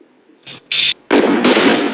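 Gunfire in the PUBG Mobile video game: two short, sharp shots followed by a loud, sustained burst of rapid fire, close and dominant.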